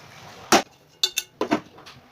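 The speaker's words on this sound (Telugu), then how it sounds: "ఈ ప్యాన్పై మూతని ఉంచి ఒక ఐదు నుంచి పది నిమిషాల పాటు ఉడికించుకోవాలి" A lid goes onto a pan of cooking mutton keema, giving several sharp metallic clanks and clinks in quick succession close by, with no talk.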